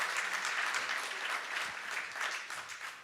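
A church congregation claps steadily and continuously, a dense wash of applause heard from a moderate distance without pause.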